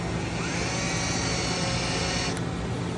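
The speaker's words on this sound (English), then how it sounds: "now that won't go deep enough, so we got to drill it deeper" A drill bores holes for a Fowler rifle buttplate, a steady, continuous high whine held at an even level throughout, close and alone with no talk.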